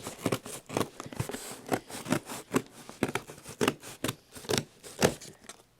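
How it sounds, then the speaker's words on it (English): Scissors snip repeatedly through paper, a steady run of crisp, close cuts at an even rhythm with no talking. "We've got scissors, and let's just cut out a section of this to make our YouTube play button."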